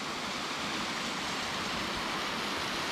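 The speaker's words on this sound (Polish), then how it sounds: "wodospad Pęczawski." A constant, dense rush of falling water, steady and unbroken throughout, like a waterfall heard from a moderate distance.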